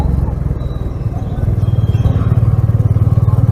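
A motorcycle engine rumbles low and steady during a morning ride, its pulsing exhaust beat growing firmer in the second half, with wind noise over it and a voice faintly present.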